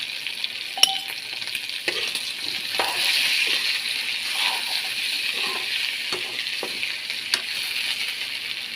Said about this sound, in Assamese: আলুখিনি দি মই আৰু 5 মিনিটমান ভাজি ল'লোঁ।